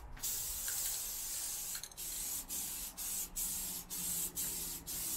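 An aerosol can of gloss protective enamel spray paint hisses continuously up close, broken by several short gaps as the nozzle is released and pressed again.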